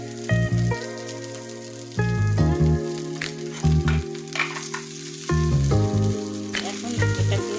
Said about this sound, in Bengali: সে মাছগুলো ছেড়ে দিয়ে দিলাম।